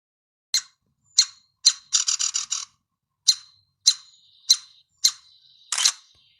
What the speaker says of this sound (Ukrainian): Це дятел.